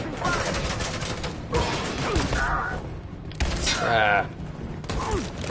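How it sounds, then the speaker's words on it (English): Rapid suppressing gunfire in the video game Detroit: Become Human, a dense, continuous crackle of shots that stays loud and close throughout, with a brief voice exclamation over it. "Suppressing fire!"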